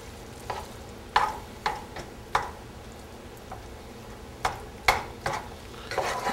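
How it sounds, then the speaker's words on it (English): Cheese sauce being stirred into macaroni in a pot: soft, wet squelching strokes and scattered spoon taps against the pan, arriving in irregular bursts, close but fairly quiet. "just make sure you get the cheese sauce nice and mixed up as well"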